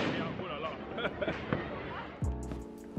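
Fireworks burst over a park in Bucharest on New Year's night, a dense crackling and popping barrage with heavier booms near the end, heard amid crowd noise and voices.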